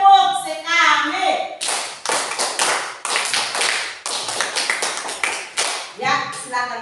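A classroom of children claps together in a series of sharp, rhythmic bursts, loud and close, with a voice speaking briefly before and after.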